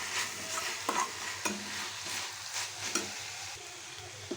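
Broad beans and tomato curry with salt are stirred in a frying pan, soft scraping strokes over a low, constant sizzle, close and unaccompanied by speech.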